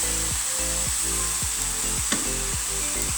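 Spring onion and other ingredients fry in rendered beef mince fat in a pan, a steady close sizzle with a few scraping stirs cutting through at regular intervals.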